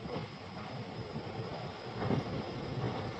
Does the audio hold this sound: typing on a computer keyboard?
no